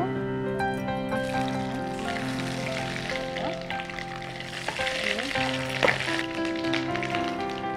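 Garlic paste with bay leaves, cinnamon and cardamom frying in a pan, giving a continuous close sizzle with some stirring sounds, while steady tonal hums run underneath.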